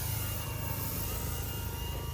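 A 1700mm P-51 model airplane flies with a little throttle on, its engine giving a constant, fairly loud whirring drone with no talk over it.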